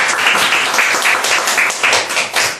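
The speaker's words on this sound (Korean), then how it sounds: "큰 박수 부탁드리겠습니다." An audience at a Korean business seminar applauds a speaker being welcomed to the stage, a dense, lively wash of many hands clapping at once, loud and close, with no speech over it.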